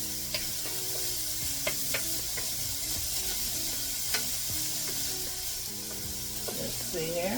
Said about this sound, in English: We're just going to saute them until they're just cooked down.